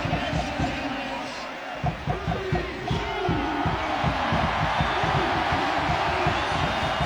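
A large stadium crowd at a US Open Cup soccer match, a steady, dense roar with rhythmic clapping and chanting that swells and persists throughout.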